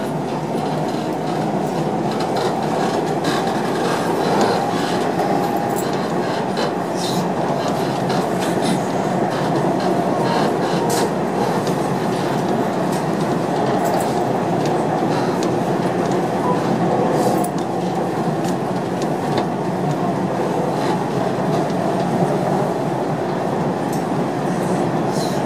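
Dubai Metro train running between Damac Properties and Jumeirah Lakes Towers stations, a steady loud interior rumble with a rhythmic clickety-clack of wheels on rails throughout and no talk.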